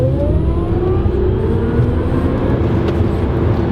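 A Tesla Model S P100D electric car accelerates with a steady, loud whir and rising tones that climb smoothly, with no engine revving, heard from inside the cabin throughout.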